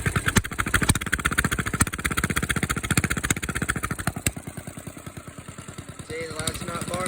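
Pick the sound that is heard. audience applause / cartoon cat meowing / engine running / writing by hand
engine running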